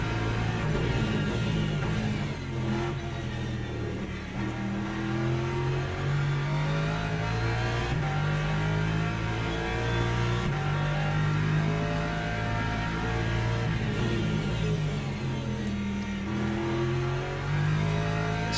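A Lexus GT3 race car in the Le Mans Ultimate sim racing game lapping Sebring, its engine droning loud and steady with repeated revving climbs and drops through the gears, with no talk over it.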